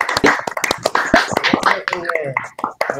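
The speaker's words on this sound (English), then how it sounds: "Everyone open your microphone and clap for each other," Participants in an online meeting clap over open microphones, giving uneven, scattered claps that come and go with voices talking over them.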